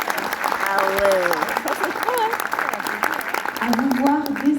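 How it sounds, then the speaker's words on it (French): Parents applaud at a diploma ceremony in Paris, dense steady clapping filling the hall throughout, while voices and shouts carry over the top of it. "Je crois que vous pouvez vous applaudir."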